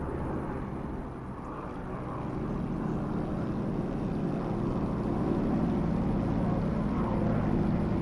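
Warbird propeller aircraft engine in the DCS flight simulator, a steady loud droning roar that builds slightly, heard alone.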